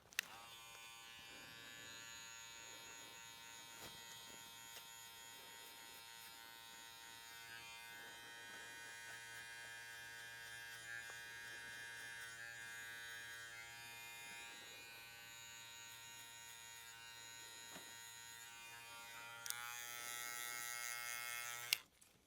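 Steady electric buzz of a Gamma Boosted hair clipper cutting hair outdoors, with a faint low hum underneath and a brighter, harsher tone near the end.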